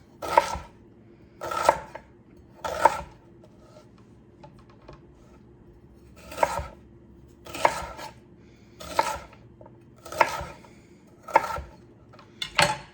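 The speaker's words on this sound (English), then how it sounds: "And now I'm just gonna cut it into slices" A knife slices through a vegetable root on a cutting board in a home kitchen, giving a run of about nine crisp, evenly paced chops, close and distinct, with quiet gaps between.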